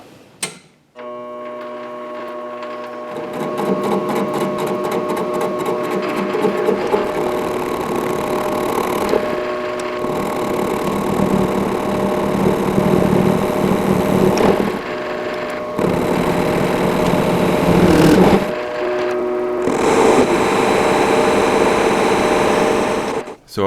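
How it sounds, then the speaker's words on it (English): A metal lathe turns while a die held in a black holder on the tailstock cuts threads onto the end of a Dragonslayer sword handle, giving a steady mechanical whir with a ticking, rasping edge that runs throughout with brief lulls. "I'm actually using a die inside the black die holder hanging out of the tailstock on the right side of the lathe"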